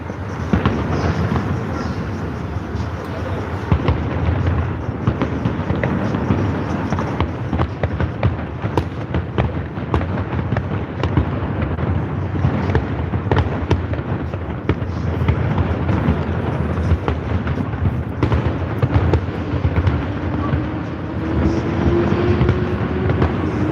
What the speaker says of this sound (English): Firework nights every Friday night when the Cincinnati Reds is at home.